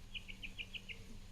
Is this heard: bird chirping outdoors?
yes